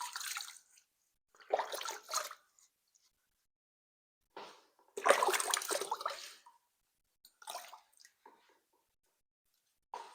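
A Wagner 250 airless paint sprayer's small nozzle is rinsed in water in a few separate splashing bursts, with quiet gaps between them and no speech.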